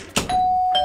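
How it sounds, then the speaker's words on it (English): A doorbell rings once, a short tone held for about half a second and then cut off, clear and fairly close. "I think that's the doorbell."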